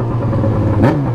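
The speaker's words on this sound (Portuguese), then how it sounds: "O escape do XJ, rapaziada, acho que ele tá rachando de novo." A close Yamaha XJ6 motorcycle engine with a cracked exhaust drones with a rough, raspy exhaust note and a brief rise in revs near the end.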